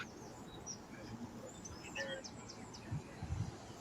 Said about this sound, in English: We just hear birds for some reason.